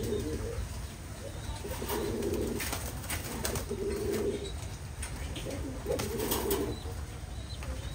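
A female pigeon coos repeatedly in low, throaty rolling bursts, close by, over a constant background hum.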